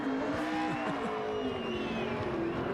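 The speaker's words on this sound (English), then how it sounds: "There's a way to do that burnout without hurting the engine." Race car at the 2013 Zippo 200 doing a burnout, its rear tires spinning: a loud, steady engine drone with harmonics shifting in pitch as the revs rise and fall. Close and continuous, with no talk.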